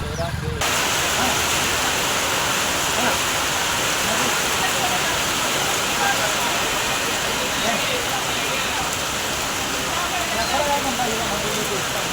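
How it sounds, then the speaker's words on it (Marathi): Dense, steady roar of heavy rain pouring down, a constant loud hiss filling the whole stretch without pause. "तर मित्रांनो लय पावसात आलोय आता आम्ही"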